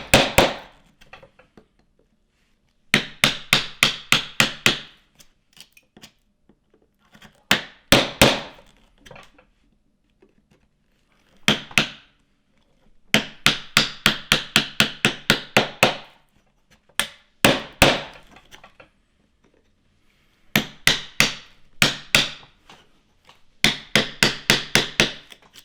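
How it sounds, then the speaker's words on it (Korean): Mallet blows drive a chisel into wood to chop out a mortise, loud close sharp strikes coming in rapid bursts of about five to ten hits separated by short pauses, with no voices. "끌질은 목재의 결을 끊고 깊게 파고 들어가는 작업입니다"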